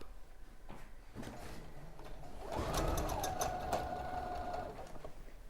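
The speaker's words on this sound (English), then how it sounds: "So I'm just going to sew along the edge of the bozal" Domestic sewing machine stitching along the edge of a fabric piece, a steady close mechanical whir that speeds up and holds for a couple of seconds before slowing again, with no talking.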